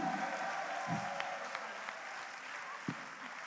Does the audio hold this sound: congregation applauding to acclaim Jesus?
yes